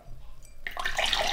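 Blended soda water poured from a container, a short splashing gush of liquid that starts abruptly about halfway through and carries on loudly to the end after a quiet start.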